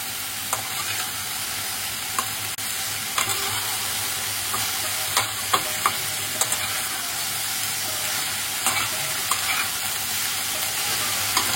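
Vegetables for a Bengali shukto with hilsa fish head frying and being stirred in a pan, a continuous close sizzle broken by regular spatula scrapes and clinks, with no talking.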